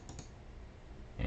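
A computer mouse gives a couple of quick, close clicks near the start, then a louder knock at the end.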